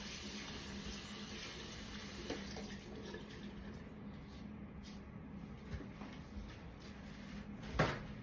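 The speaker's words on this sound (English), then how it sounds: "it's not a problem to rinse these gloves off as I continue my process." Water runs steadily from a tap as gloves are rinsed under it, a faint continuous splashing stream with a few small knocks.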